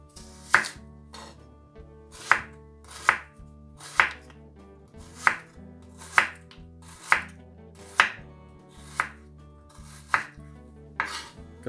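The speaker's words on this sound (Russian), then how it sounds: "Лук нарезаю полукольцами." A kitchen knife chops an onion into half rings on a cutting board, about ten crisp, evenly spaced knocks close up, with a soft background hum and no talking.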